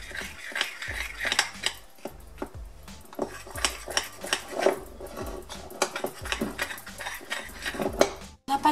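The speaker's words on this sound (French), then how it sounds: "Je vais bien mélanger le tout" Gluten-free buckwheat and chocolate muffin batter stirred in a bowl, with a utensil scraping and clinking against the sides in repeated uneven strokes, close and fairly loud, no voices.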